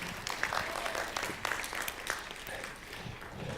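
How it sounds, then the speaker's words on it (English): Audience applause at an IT conference, a dense steady patter of many hands clapping at moderate distance with a few sharper claps standing out, continuing evenly for a few seconds. "Give them a round of applause,"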